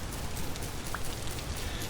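Steady rain falls in the Vintage Story video game: an even, hissing wash of droplets with no gaps, moderately quiet throughout and with no one talking.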